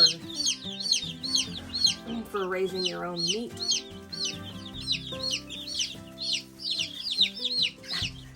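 Dozens of baby Buff Orpington meat chicks peep nonstop in a rapid, high chorus close by, while someone talks over them.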